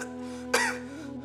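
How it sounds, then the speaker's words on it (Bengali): A single sharp cough bursts out from someone with fever and a cold, close and brief, with a quiet room before and after. "কি হয়েছে, এত কাশছো কেন?"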